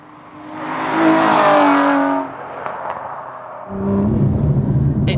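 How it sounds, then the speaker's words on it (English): Aston Martin V12 Vantage with a carbon fibre kit, its engine revving loudly and rising in pitch before easing off, then a second rougher burst of engine noise near the end. "It pulls well, and if the early V8 in particular"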